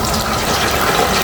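Basket of naked chicken wings lowered into hot oil in an RV Works deep fryer, giving a steady, loud rush of bubbling and sizzling throughout, with no talk.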